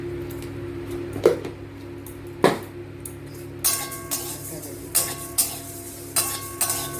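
Dry red chillies, coriander seeds, fennel, white cumin and a pinch of salt are stirred in a dry pan, giving repeated close scraping and rustling strokes at an irregular pace over a faint background hum.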